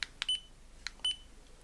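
Dazzne P2 Plus HD action camera beeping as it powers on: short, bright electronic beeps in separate bursts, close and clear against a quiet background.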